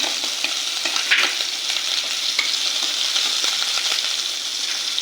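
Chopped green chilli frying with vegetables in a pan over medium gas, a continuous close sizzle broken by occasional stirring scrapes, with no voices.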